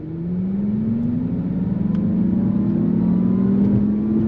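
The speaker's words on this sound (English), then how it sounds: "We're gonna go on throttle with the twin motor setup in this thing." Under throttle, a 2024 Acura ZDX A-Spec twin-motor electric SUV accelerates with a smooth, rising electric whir and a synthetic tone piped through its speakers, loud and steady inside the cabin with no talk.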